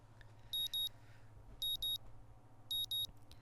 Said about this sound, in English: the sound of my alarm quickly has me up and about